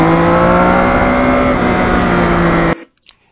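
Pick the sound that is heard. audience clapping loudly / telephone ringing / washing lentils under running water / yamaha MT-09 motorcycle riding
yamaha MT-09 motorcycle riding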